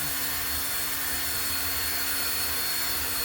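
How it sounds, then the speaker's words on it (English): A 3D paint mixer churns a half gallon of paint with a steady, continuous whirring drone, moderately loud and close, with no breaks or talk. "it's going and mixing this half gallon of paint pretty good"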